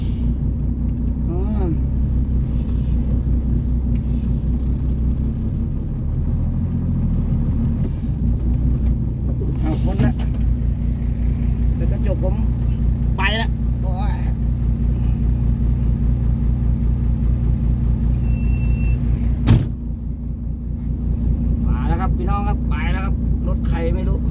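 A vehicle engine rumbles steadily and loud during a rice harvest, building slightly as it passes, with people talking over it throughout.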